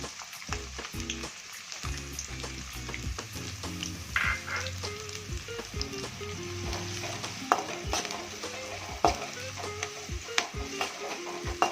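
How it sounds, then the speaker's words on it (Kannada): Finely chopped onion fries in hot oil in a pan, a steady crackling sizzle broken by repeated clinks and scrapes of a stirring spoon, close up and with no talking. "ಈರುಳ್ಳಿ ಚೆನ್ನಾಗಿ ಫ್ರೈ ಆಗಬೇಕು. ಫೈವ್ ಮಿನಿಟ್ಸ್ ಈರುಳ್ಳಿನ ಚೆನ್ನಾಗಿ ಫ್ರೈ ಮಾಡಬೇಕು."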